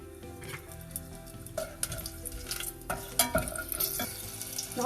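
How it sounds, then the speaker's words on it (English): Bay leaf and dry whole spices frying in a pan for kuska biryani, giving a quiet crackling sizzle with repeated scraping and clinking of a stirring spoon, close up. "First I'll add the dry masalas. Bay leaf. Fry this a little bit."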